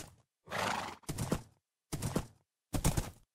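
A horse in a video game whinnies and snorts in four separate loud bursts, close up, with short silent gaps between them.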